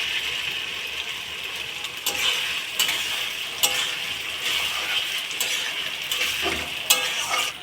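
An egg stir-fried in a pan for hakka noodles gives a loud, continuous sizzle, with repeated scraping and clattering strokes of the spatula against the pan.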